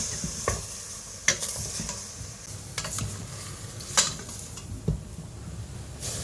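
Beef dry-stir-fried with lemongrass and kaffir lime leaves in a pan, with a quiet sizzle and several sharp scraping stirs at irregular intervals, close up, with no talk.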